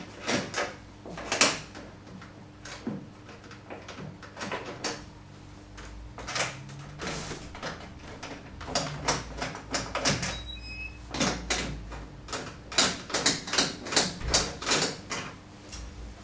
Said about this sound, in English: we need to remove the side cover, which is retained by four screws and undone using the Allen key provided. Undo the four screws.